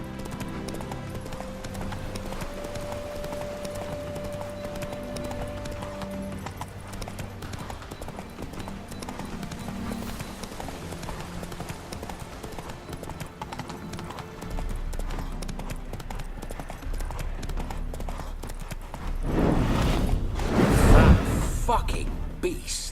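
Horse hooves clip-clop steadily in The Witcher 3: Hearts of Stone, a continuous rhythmic trot under game ambience, with louder rustling and movement near the end.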